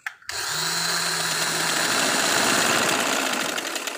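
An electric sewing machine, threaded and under repair adjustment, starts up after a brief pause and then runs with a steady, close, continuous whirring and buzzing motor hum while it stitches.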